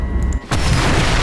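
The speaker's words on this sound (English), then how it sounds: "Missile away." Air-to-air missile, a rear-aspect Sidewinder, firing from a jet in the War Thunder video game: a single loud broadband whoosh bursts in after a brief quiet gap and roars on steadily to the end.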